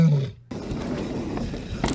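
A lion roars close to a car, a deep loud growl that cuts out briefly and then returns as a rumbling roar, with a faint voice underneath.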